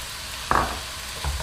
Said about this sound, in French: J'ai fait revenir les endives une bonne minute.